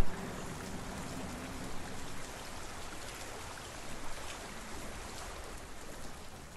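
A waterfall in Hellblade: Senua's Sacrifice pours as a steady, dense broadband rush of water, continuous and fairly close, with no voices.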